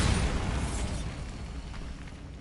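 A Bombarda spell going off in a Harry Potter-style video game, a loud booming blast that strikes at once and then fades into a rumbling, crackling decay, with no voices.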